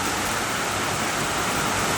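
Steady, dense rain falls in a continuous even hiss with no breaks and no voices.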